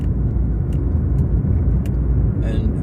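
Learner car pulling away and accelerating at a green traffic light on a driving-test route in Farnborough, heard from inside as a steady low engine and road rumble filling the whole stretch.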